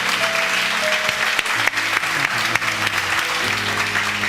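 Church congregation at a Sunday worship service applauding steadily, a dense, continuous wash of clapping from many people lasting a few seconds, with faint background music underneath.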